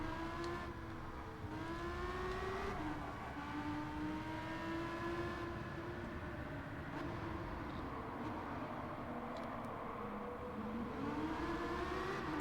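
Race car engine in Gran Turismo 7 screaming under sustained acceleration, its pitch climbing and dropping with gear changes over a steady roar of road and tire noise, loud and continuous.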